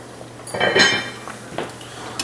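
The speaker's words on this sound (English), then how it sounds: "Now what I'm gonna do, I'm gonna go ahead and take the lid off" Metal pot lid lifted off a pan of smothered pork chops simmering on the stove, with a clattering clink and a few lighter knocks, close and fairly loud.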